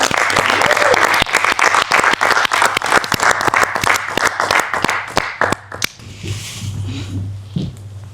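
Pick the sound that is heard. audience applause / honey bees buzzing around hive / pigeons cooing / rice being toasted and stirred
audience applause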